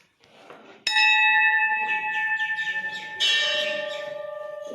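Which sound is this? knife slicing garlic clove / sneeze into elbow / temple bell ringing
temple bell ringing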